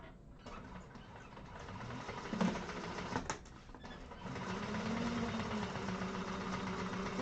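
A sewing machine top stitches a second row on thick vinyl for a hobo bag, running in short whirring bursts at first, then settling into a steady, close mechanical hum.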